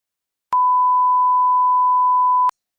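A single steady electronic censor beep at one pitch, lasting about two seconds, clean and loud with silence on either side.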